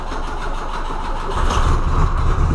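An abandoned Volkswagen Santana with only a bare exhaust pipe cranks and catches, settling into a rough idle before surging to a louder, deeper rumble close by.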